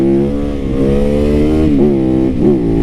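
Japanese motorcycle fitted with an aftermarket exhaust revs loudly and close, a steady idle climbing into several sharp throttle blips.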